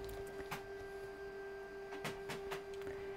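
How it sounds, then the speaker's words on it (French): A home printer running by itself, with a steady mechanical hum and a few sharp clunks and sliding rattles as its parts move, fairly close by and with no talking. "j'ai mon imprimante qui se met à fonctionner toute seule"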